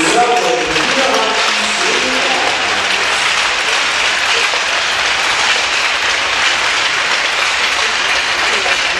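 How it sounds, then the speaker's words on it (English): A loud, sustained round of applause from the crowd at a men's college ice hockey game during pregame introductions, dense clapping that continues steadily throughout, heard without talk. "Please rise and give a loud round of applause for your"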